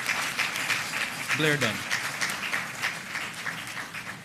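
An audience at a public service excellence awards ceremony claps steadily for an award winner, a dense patter of applause continuing throughout as a voice speaks briefly over it.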